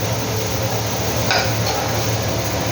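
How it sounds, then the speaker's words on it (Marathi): A spoon stirs and mixes food in a cooking pot, giving a steady scraping and clinking over a constant background hum, with one sharper knock partway through. "आता आपण मिक्स करून घेऊया."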